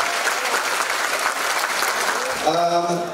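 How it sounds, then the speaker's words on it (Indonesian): An audience at a university special lecture, Fateta Unand, claps in a dense, sustained round of applause that fills the clip, with a voice beginning to speak over its tail near the end. "Tepuk tangan untuk Anda."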